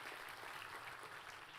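A church congregation claps together after a sermon prompt, a brief, fairly faint burst of mixed applause filling the space without voices on top.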